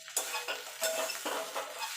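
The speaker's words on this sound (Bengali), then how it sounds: "আমার উচ্ছেটা ভাজা ভাজা হয়ে গেছে। এবার এর মধ্যে আমি আলুটা অ্যাড করে দেবো।" Bitter gourd and potato fry in a pan under repeated scraping strokes of a spatula, rhythmic stirring over a soft close sizzle, with no voices.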